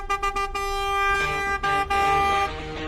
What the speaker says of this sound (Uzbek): Nima signal chalyapsan?